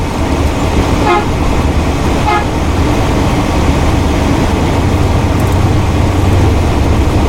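A tour bus horn gives two short courtesy honks early on amid steady, loud road and engine rumble.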